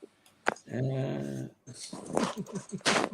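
Dogs indoors give a close, sustained growling whine lasting about a second, after which people talk over faint canine noises.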